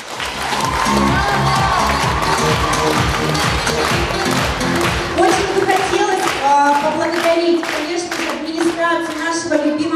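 A concert audience applauds in a hall, dense steady clapping with cheering that fills the room throughout, while tonal music sounds underneath and rises toward the end.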